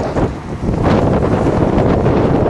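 Strong wind blows outdoors, buffeting the microphone with a loud, continuous low rumble that swells slightly after the first second and holds steady throughout.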